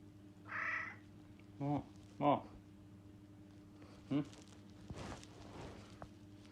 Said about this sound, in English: Here's a very polite cat.